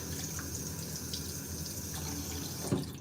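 Water runs steadily from a tap to rinse a photographic print in a darkroom, a continuous hissing stream close by with a slight splash near the end.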